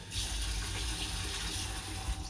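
Tap water runs steadily into a pot of quinoa, a continuous close rushing hiss with no voices.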